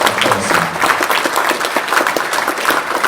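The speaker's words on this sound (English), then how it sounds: "So how about a round of applause" Sustained audience applause fills a room at a fraternity Founders Day gathering, dense, steady clapping from many hands throughout with no break.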